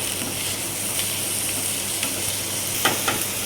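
Ginger garlic paste sizzles steadily in a hot pan for moong dal, with a few sharp scrapes and taps from stirring near the end, close and continuous with no voices.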